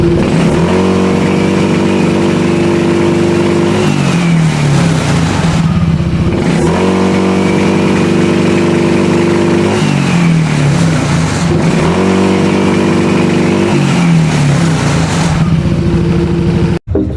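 Yamaha NMAX V2 scooter engine revving during an RPM and throttle sensor check, loud and close, with steady idle broken by repeated rises and falls in revs in a regular cycle, no talking.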